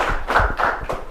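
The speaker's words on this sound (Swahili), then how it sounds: "Patie makofi." A short burst of clapping from a small group during a high school journalism club's visit to a radio studio, a few quick slaps lasting about a second.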